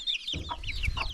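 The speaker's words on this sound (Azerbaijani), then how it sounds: "Bu cücə xoşuma gəldi nəsə, deyəm bir." Chicks peep in high, quick chirps while hens cluck close by in a village farmyard in Zarnava, Ismayilli district, Azerbaijan. The calls are steady and clear, with no talking.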